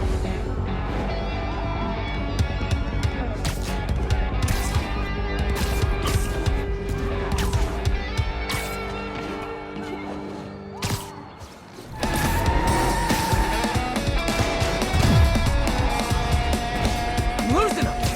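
A car chase ending in a pile-up crash in Marvel's Spider-Man, with engines, crunching impacts and booms spread across the clip, under frequent speech.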